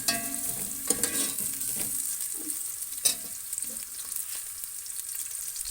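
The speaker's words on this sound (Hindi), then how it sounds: "प्याज अच्छी तरह भून जाएंगे" Sliced onions frying in oil in a pan for a potato and carrot curry, a continuous soft sizzle with occasional stirring clinks and scrapes, close and fairly quiet with no talking.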